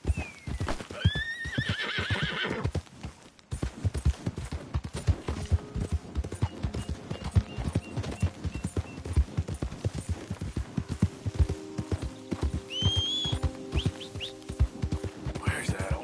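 A horse in Red Dead Redemption 2 gallops with rapid, rhythmic hoofbeats throughout, letting out loud whinnies near the start and again toward the end, with faint voices underneath.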